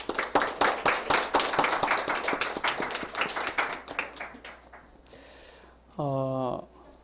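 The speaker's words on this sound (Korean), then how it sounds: "우리 격려의 박수를 이렇게 한번" A church congregation applauding: dense, loud clapping from many hands that gradually thins out and fades, followed by a brief pause and then a short burst of talk or song.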